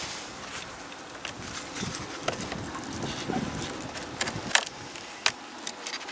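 A dense, steady buzz of many honey bees in a hive fills the clip, with scattered louder buzzes of individual bees flying close by.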